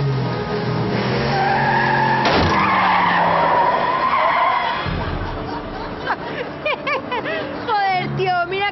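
A car skids with a long tire squeal and strikes a person, with a thud and crowd babble over the skid; a voice laughs and speaks afterward.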